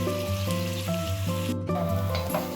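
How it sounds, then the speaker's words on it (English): Onions fry in oil in a pan, giving a soft continuous sizzle with faint crackles and a steady tonal hum behind it, heard close and without talk. "we start off with some oil and onions first until they become brown"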